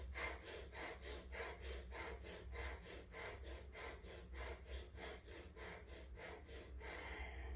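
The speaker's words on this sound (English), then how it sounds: "We're going to put our hands on our abdominal and we're going to breathe." Slow, rhythmic abdominal breathing during yoga pranayama practice, each breath a soft, airy rush repeating steadily and close by, faint and with no talk.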